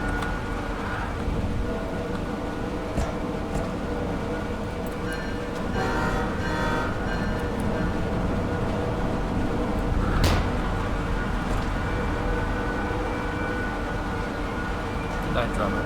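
Diesel locomotive engine in the Derail Valley train game idling steadily after fuel-injection priming, a continuous low rumble throughout with voices talking over it.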